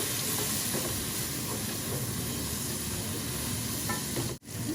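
Spices with mild curry powder frying in a pan with a little water added, for a Sylheti amra khatta dish, give a steady, close, loud sizzle and hiss that runs unbroken before a brief break near the end.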